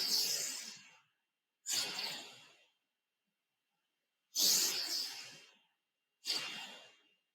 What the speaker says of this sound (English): breathing in through your nose and out through your nose